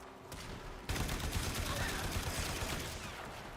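Dense, continuous automatic gunfire from shooting enemies in the sci-fi shooter Warframe, opening quieter then erupting into a loud sustained barrage of rapid shots that carries on to the end.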